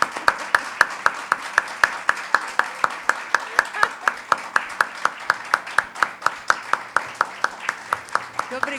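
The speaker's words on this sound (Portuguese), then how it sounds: "Uma salva de palmas para ela." Audience applause at a dance and literature lecture-debate, steady rhythmic clapping throughout with sharp regular claps standing out, a voice briefly audible underneath.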